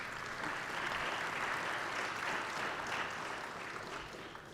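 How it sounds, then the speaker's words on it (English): A symposium audience on air and missile defense applauds a panel, with steady, even clapping from a large room that swells and then slowly fades toward the end. "How about a big round of applause for our panelists?"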